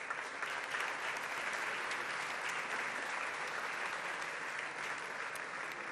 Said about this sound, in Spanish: Fuerte el aplauso para ambos.